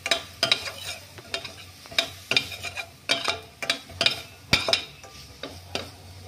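A utensil stirs red chili powder into a potato mixture in a cooking pan, giving repeated scraping strokes and metallic clinks at a steady rhythm, close and fairly quiet, with no voices.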